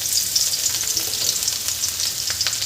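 Crushed garlic sizzles and fries in hot oil with cumin and mustard seeds, a close, steady crackling hiss with small pops throughout.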